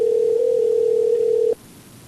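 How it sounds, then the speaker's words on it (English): A telephone line tone on a radio call-in show: a single steady electronic tone holds for about a second and a half, then cuts off abruptly, leaving quiet line hiss. "we now have a phone line ringing"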